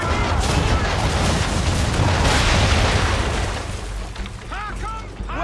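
Ship cannons firing a broadside in Assassin's Creed III, a heavy, rolling boom that swells and then rumbles away. A voice speaks near the end.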